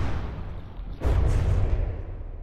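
Missile explosion in the naval combat game From the Depths, a deep rumbling boom that bursts in at about one second and rolls on as a heavy low roar, loud and close.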